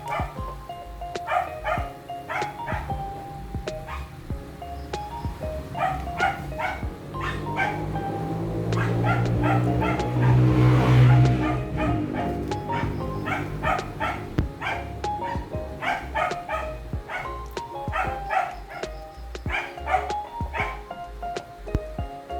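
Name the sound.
pet dogs barking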